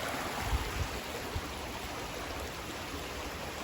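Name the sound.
small mountain river flowing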